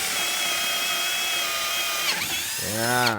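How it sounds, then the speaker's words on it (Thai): A MASARU MSR-CD204 cordless drill bores a hole with a steady high-pitched whine that runs for about two seconds, then winds down and stops. A voice follows at the end. "จะเจาะอีกรูนึงนะครับ"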